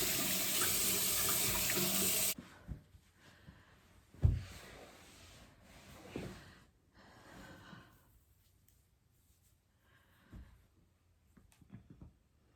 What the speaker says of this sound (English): Or I'll use water.